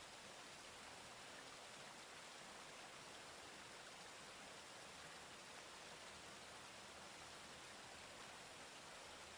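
Steady rushing water from a waterfall in a lagoon level of a raft-crossing video game, a soft, even broadband wash that holds unchanged for the whole stretch with no voices over it.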